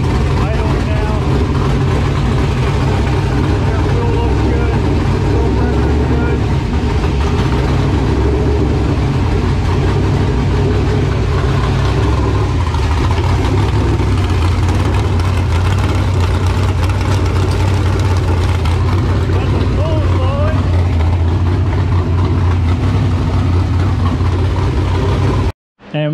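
Car engine idling steadily after its first start on a Holley Terminator X base tune, a continuous low rumble with a slight warble, and someone talking over it throughout.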